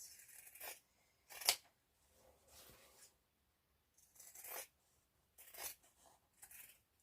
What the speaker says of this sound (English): cutting the seams where the pieces were stitched together